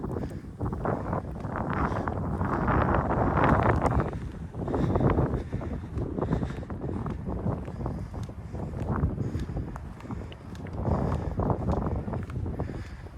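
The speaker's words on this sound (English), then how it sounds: "The wind is picking up now." Gusty wind blowing across open desert ground with cacti, a steady rushing roar that swells and dips in waves, buffeting the microphone throughout.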